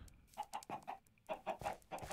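Minecraft chickens clucking in a quick series of short, close, moderately loud clucks, heard alone without talk.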